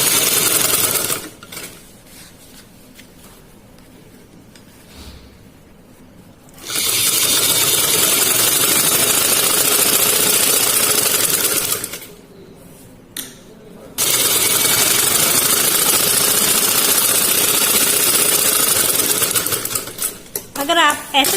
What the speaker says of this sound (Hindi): अब मैं यहाँ से सिलाई लगाऊंगी